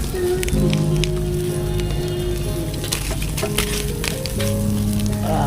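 Steady sizzling and bubbling of food cooking in a pot, close and continuous, with faint tonal hum underneath.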